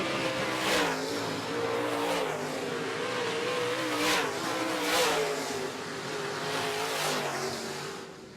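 Modified race cars battle through a heat on an oval track, engines roaring continuously with several louder passes sweeping by close and fading, a steady layered drone of multiple cars.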